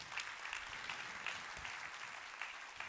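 A church congregation at an Easter service breaks into sustained, moderately distant applause, with many hands clapping together in a continuous wash of sound.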